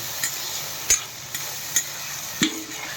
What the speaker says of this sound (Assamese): এই তেল গৰম হৈ গ'ল আগতে বুটটো ভাজি ল'ম